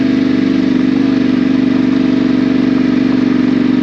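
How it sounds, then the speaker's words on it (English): Yamaha T7 motorcycle ridden behind a windshield with a chin-mounted camera: a steady, loud engine drone with strong low harmonics and broadband wind rush, holding constant throughout with no talk. "I am riding a T7 behind a windshield, and I have this on a chin mount"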